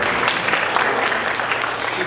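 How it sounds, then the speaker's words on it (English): Brief applause from an audience at a talk, steady dense clapping lasting about two seconds with no voices over it. "give him a round of applause"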